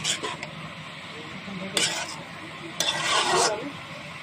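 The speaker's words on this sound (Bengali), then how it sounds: "হাফ চা চামচের পরিমাণ লবণ দিয়ে দিচ্ছি দিয়ে ভালোভাবে নেড়ে চেড়ে মিশিয়ে দিচ্ছি" Pea greens and eggplant being stirred with salt in a pan, a quiet scraping and rubbing with a few louder bursts of utensil against metal, close by and heard alone.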